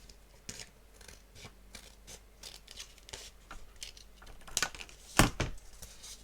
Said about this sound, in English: I'm just going to cut the other one against the edge of there.